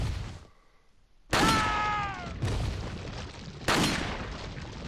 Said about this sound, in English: So you see those guys, I'm going to shoot them now